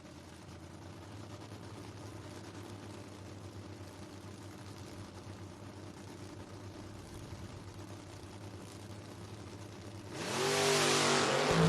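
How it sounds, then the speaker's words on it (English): A Camaro and a Firebird at a footbrake drag racing event: a steady engine drone holds in the distance for most of the span, then a louder rising roar bursts in at the end as the cars launch, with no talk. "Jedrick in the Camaro, 549 dial in, going to be given chase to the Firebird of Denny McCloskey, dialed in 652"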